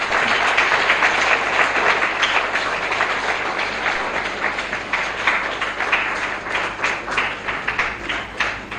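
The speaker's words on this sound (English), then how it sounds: "let's give one applause to these eminent founders" Sustained applause from a live World Radio Day event audience, dense and steady throughout, with a few louder claps standing out near the end.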